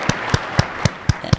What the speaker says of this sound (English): Yeah, we applaud him, huh?